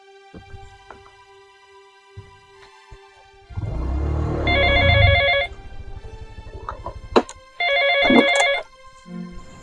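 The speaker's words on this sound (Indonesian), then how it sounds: "Ada telepon masuk." A telephone rings for an incoming call indoors: two bright electronic ring bursts about three seconds apart, loud and close, over low background rumble and movement.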